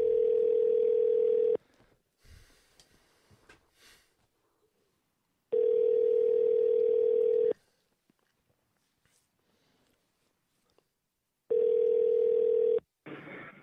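Steady telephone dial tone sounds in three long, loud stretches while a prank call is being placed, separated by gaps of faint handling noise and a brief murmur.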